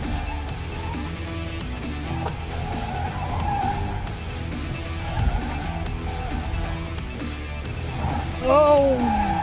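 An Audi A4 with a turbo engine driven hard around a race track, its engine droning steadily while the tires squeal sharply near the end, with someone talking over the car noise.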